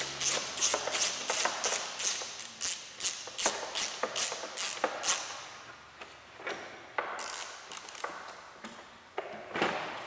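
A ratchet driver clicks rapidly while loosening the T30 Torx screws on a 2010s VW Golf Mk7 R-Line headlight, with bursts of quick ratcheting for about five seconds before sparser, softer clicks and creaks follow.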